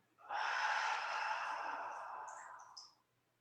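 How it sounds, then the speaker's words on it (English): One long, deep exhale during a yoga breathing exercise, a breathy rush lasting nearly three seconds and fading toward the end, close and clear with no talking over it. "Huge breath out"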